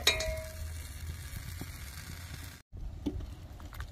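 Pot of pork ribs bubbling on low heat for a Vietnamese caramelized pork rib dish, giving a steady close sizzle and simmer with soft clinks, then a brief gap before the simmering resumes.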